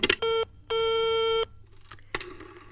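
An old telephone in a German children's audio drama gives two steady electronic tones, one short and one longer, then a brief third tone, clear and close with small clicks between.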